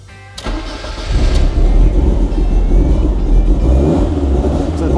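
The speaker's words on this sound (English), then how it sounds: "let's see if it starts, and give it a rev." A Lancia Delta Evo1 engine cranks and fires up, then settles into a loud, steady, throaty run close by, with a few small revs rising over the idle.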